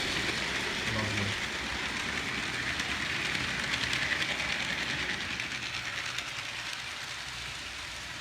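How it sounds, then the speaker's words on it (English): A model New York Central locomotive pulling a string of coaches runs along the track with a faint, steady rolling clatter, quiet and indoors. "now that you've seen the locomotive moving with all the coaches"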